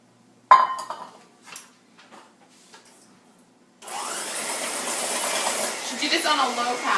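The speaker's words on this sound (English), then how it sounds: "In an electric mixer, cream the butter and the sugar together." Electric mixer creaming butter and sugar for Christmas cookies starts after a few soft clinks of bowls and utensils, then runs as a continuous close whirring hum to the end.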